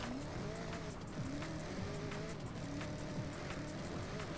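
Supercharged Cadillac Blackwing in a racing video game, an engine whining up and down through repeated gear shifts with tire squeal, heard quietly in the background.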